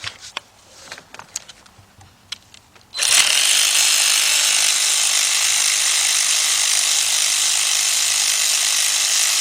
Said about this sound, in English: Get my cordless ratchet